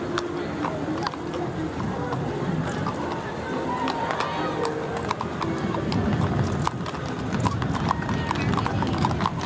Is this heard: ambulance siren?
no